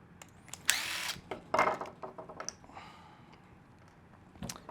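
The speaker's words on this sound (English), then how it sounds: "I'll take my 2 mil and remove the chain guide here." Power driver with a 2 mm hex bit backing out chain guide screws on a Losi Promoto-MX RC motocross bike: two brief whirring bursts with clicks and handling noise, close and moderate, no talk.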